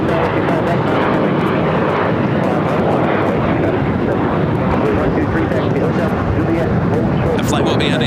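Airliner jet engines roaring during takeoffs from runway 25 right at Los Angeles International Airport, a steady loud broadband rumble and whine filling the whole stretch with no letup.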